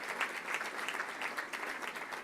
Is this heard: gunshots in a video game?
no